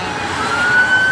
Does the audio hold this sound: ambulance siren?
yes